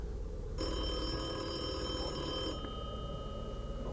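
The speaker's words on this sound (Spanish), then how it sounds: "el teléfono de la casa empezó a sonar, con el tono que le asignamos a mi abuela" A house telephone rings once in a steady electronic trill that lasts about two seconds and then stops, over a low background rumble with no voices.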